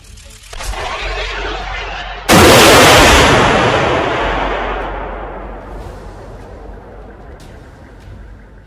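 USS Savannah, a littoral combat ship (LCS 28), launches an SM-6 missile from a containerized launcher during a live-fire demonstration in the Eastern Pacific. Steady wind-like noise breaks into a sudden loud roaring blast that slowly fades over several seconds.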